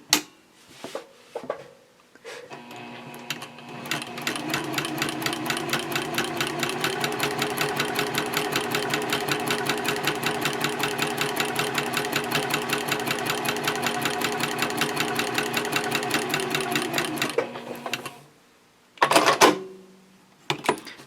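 A sewing machine stitches a quilted A5 journal cover in one long, fast, even run of needle rattle, close and loud, then stops, with a short burst of stitching again near the end.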